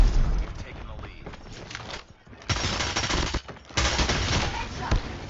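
Rapid bursts of gunfire from a video game shooter, loud and dense, running nearly throughout with a brief lull midway, under excited live-stream chatter.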